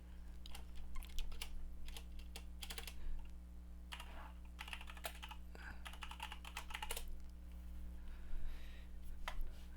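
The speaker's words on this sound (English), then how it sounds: "I'm trying to type on my keyboard here" Rapid bursts of clicking keystrokes on a computer keyboard, close and fairly loud over a steady low electrical hum, in irregular clusters with brief pauses and no talk.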